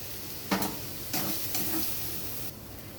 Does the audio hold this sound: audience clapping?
no